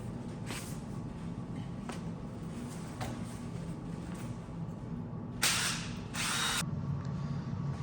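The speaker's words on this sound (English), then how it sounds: "I got a 9/16 socket here, and my little 1/4" impact should get these busted loose, so here I go" A quarter-inch impact wrench with a 9/16 socket loosening old bolts on a long-unused motor in a garage: faint taps and clicks, then two short loud whirring bursts near the end.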